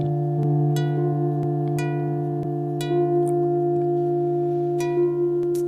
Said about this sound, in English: you can hear most of the cookie activities from third-party cookies